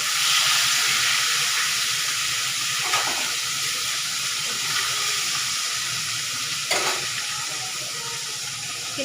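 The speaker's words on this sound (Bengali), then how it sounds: "এটা পটাপট রুই মাছগুলো ভেজে নেবো" Rohu fish pieces fry in hot oil in a pan, giving a loud, continuous sizzling hiss close up, with a couple of brief sharper crackles.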